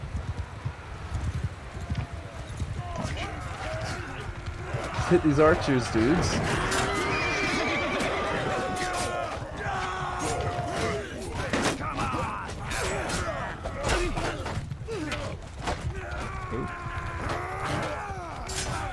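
Cavalry horses in Mount & Blade II: Bannerlord gallop and neigh in battle, with repeated whinnies and hoof clatter amid game noise while someone talks over it.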